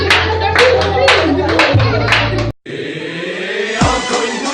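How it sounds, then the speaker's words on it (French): Guests clapping at a child's birthday party: a run of close, sharp handclaps over music and background noise, then a brief cut before a busier stretch of party sound. "On peut applaudir pour l'enfant."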